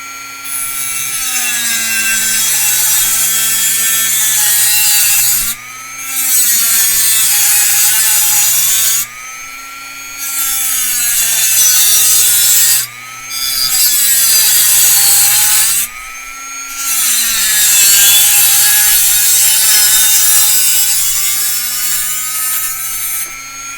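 A hand saw makes a straight cut through wood, steady back-and-forth strokes rasping loudly and close up, with a few brief pauses between runs of strokes and no talk.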